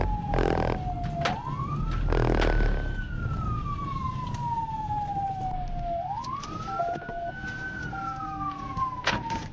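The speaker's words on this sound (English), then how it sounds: "immediately turned on his sirens and emergency lights to pull the driver over" A police cruiser's siren wails in rising and falling sweeps during a traffic stop on a speeding black Dodge Challenger, loud and close, with engine noise and a few sharp bursts underneath.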